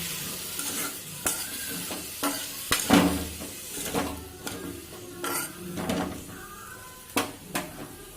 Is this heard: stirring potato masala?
yes